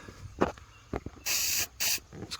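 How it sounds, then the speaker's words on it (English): WD-40-style lubricant sprays onto a locking mechanism of a BMW E30 manual convertible top in two sustained hissing bursts, with small clicks and handling noises between them. "a little bit of lubricant here, some WD-40 knockoff"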